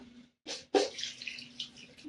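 Water splashes and trickles into a pot of chicken kulambu in a couple of short pours, close by, with a faint steady hum underneath.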